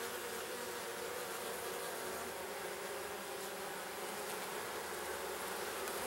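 Honey bees swarming around an opened beehive, a dense, continuous buzz close by and steady throughout, with no talk.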